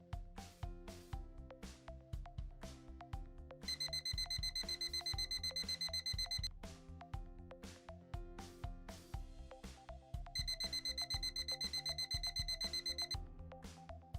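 A Traceable 4730 Series refrigerator/freezer temperature alarm beeps continuously in rapid repeating bursts, a steady insistent pattern of high tones that keeps going throughout.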